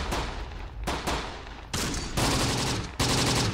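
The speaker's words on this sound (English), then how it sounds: "Panzer Grenadier here to open fire on them" Bursts of video-game gunfire from Panzer Grenadiers in Close Combat desert fighting, loud and close, several sustained volleys separated by brief gaps.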